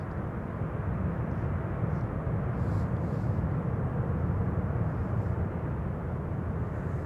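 A KLM Boeing 737-800 arriving from Dublin at Amsterdam Schiphol, a continuous low rumbling engine roar held at an even level throughout, somewhat distant, without speech.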